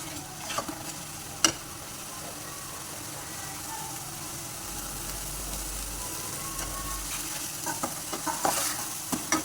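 Minced meat keema stir-fried in a pan with green chilli, a steady sizzle broken by spatula scrapes and clicks, more frequent toward the end, close and under a soft low rumble.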